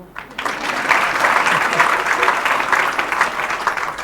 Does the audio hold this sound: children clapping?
yes